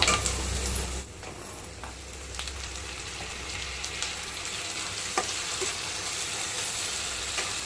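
Chopped tomato tipped into frying onions for masala pasta and stirred, giving a steady close sizzle with occasional light scrapes and clicks of the spoon against the pan, a louder burst at the start, no voices.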